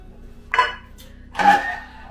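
A spoon scrapes and knocks in a pot as flour is stirred into melted butter, two short bursts of clunking and scraping separated by quiet.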